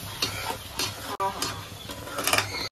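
A loud, steady sizzle of ground spice paste frying in a hot pan for a liver and tripe curry, with stirring scrapes coming in rhythmic waves.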